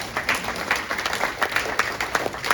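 A small town hall audience applauds together for a colleague's promotion, steady dense clapping that holds at an even level for a few seconds with no voices over it.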